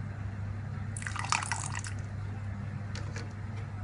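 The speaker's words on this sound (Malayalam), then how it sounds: "ഇനി ഇതിലേക്ക് ലൈം ജ്യൂസ് ആഡ് ചെയ്ത് കൊടുക്കാം" Lime juice is poured into a pot of boiling water for chicken majboos, giving a brief, faint splashing trickle over a steady low simmering hum, with no voices.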